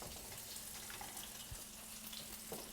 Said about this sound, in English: hear that sizzle?